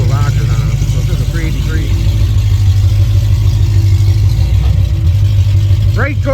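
A Cutlass G-body with a 383 engine being brake torqued, its deep engine rumble held steady and loud throughout with a few short rising revs near the start and end, while people talk over it.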